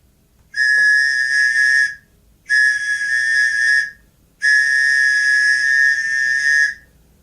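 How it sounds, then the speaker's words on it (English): A train whistle used as a sound effect in a children's story reading gives three long, steady high blasts separated by short silences, loud and clear with no voices. "Franklin heard a lonesome whistle."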